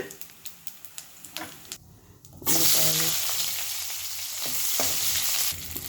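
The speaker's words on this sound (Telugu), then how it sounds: "ఇవన్నీ ఫ్రై చేసుకోవాలి" Spices, lentils and onions with garlic, tamarind and turmeric sizzle loudly in a hot pan for bitter gourd fry, starting after a few light clicks and holding as a steady close crackle to the end.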